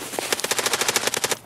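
A machine gun firing in Escape from Tarkov, a single rapid burst of about fifteen sharp evenly spaced shots, loud and close, lasting just over a second.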